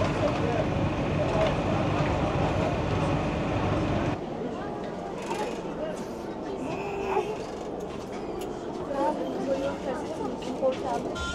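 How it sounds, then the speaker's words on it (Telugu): At a station, a train pulls in at the neighbouring platform with a loud, dense rumble that drops off after about four seconds. A quieter rolling background with clanks follows, and people talk throughout. "మన పక్క ప్లాట్ఫామ్ మీద ఇంకో ట్రైన్ వచ్చింది"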